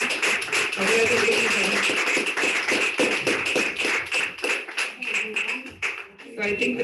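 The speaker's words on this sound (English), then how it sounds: "Please give a good round of applause." A Toastmasters club audience claps in a long, dense round of applause at an awards presentation, and a few voices mix into the steady patter.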